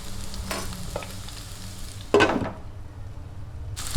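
Bitter gourd, onion and tomato sauté in a pan with a steady low sizzle, stirred and scraped in a couple of short bursts, one sharper clatter of the spoon near the middle, no talking.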